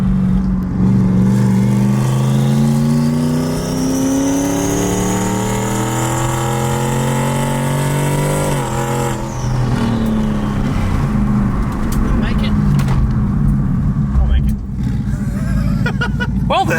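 Turbocharged 2018 Ford Mustang GT running on race gas, engine revving and pulling hard with a rising turbo whine, loud and close throughout, then dropping off and building again.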